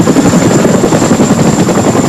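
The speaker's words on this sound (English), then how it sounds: "this Chinook helicopter becomes the workhorse of the day, hauling tens of thousands of sandbags" A Chinook helicopter hauling sandbags during flooding in central Iowa, heard as a loud, continuous rotor roar with a rapid throbbing chop and a steady high whine, close and alone.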